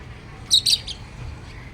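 A pet bird gives two quick, high-pitched chirps close by, followed by a fainter third note, over quiet room background.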